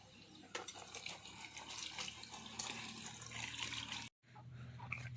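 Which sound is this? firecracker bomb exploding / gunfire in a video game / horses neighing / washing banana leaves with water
washing banana leaves with water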